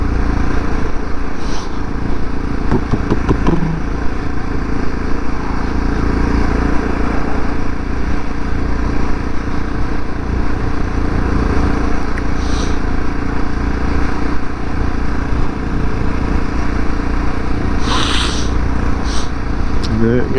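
A Yamaha MT03 660 motorcycle rides along a rough road on a cold, windy day, its engine droning steadily beneath heavy wind buffeting, with a rider speaking over the noise.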